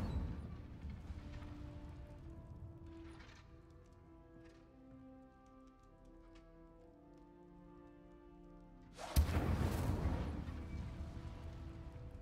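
An Incendio fire spell cast in Hogwarts Legacy erupts as a sudden loud whooshing burst of flame late on, after a long stretch of soft tonal game ambience and faint scattered noises.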